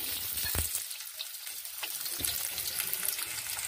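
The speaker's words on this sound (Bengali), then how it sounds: "পেঁয়াজটা একটু লাল করে ভেজে নিই" Chopped onion frying in oil with whole cumin, cinnamon and cardamom for chana masala, a soft continuous sizzle with a few spatula knocks, fairly quiet and without talk.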